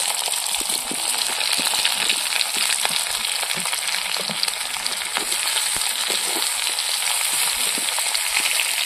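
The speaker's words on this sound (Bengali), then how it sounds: "ভেজে রাখা আলুগুলো দিয়ে দেবো।" Onions, green chillies and fried potatoes sizzle steadily in a pan for a village-style katla fish curry, a close, continuous frying hiss with occasional light clinks and stirring, no talking.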